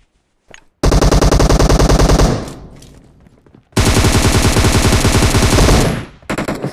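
Loud sustained automatic gunfire bursts from the mobile battle royale game BGMI, in Georgopol, two long rapid-fire volleys separated by a short pause, then a brief final burst, with no talking.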